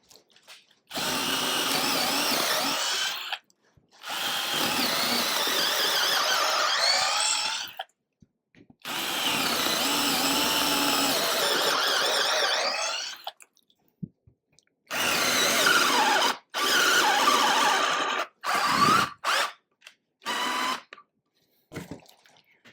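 A cheap DeWalt knockoff power drill runs under heavy load in several long bursts of steady whine, then a string of shorter, choppier pulses toward the end, loud and close with no talking.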